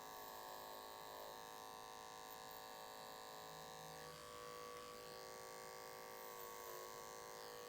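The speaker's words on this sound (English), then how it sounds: "that clipper is going through there nice and easy" An electric hair clipper fades thick wavy hair during a men's side-part cut, a steady close buzz running the whole time with small shifts in pitch as the blade moves through the hair, no voices.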